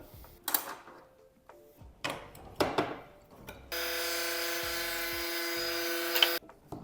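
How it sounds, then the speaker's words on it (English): Table saw ripping a board for a woodworking router jig: a few wooden knocks and handling clatters, then the motor starts and holds a loud steady whine for about three seconds before cutting off. "So I'm going to have to slice this off through the table saw"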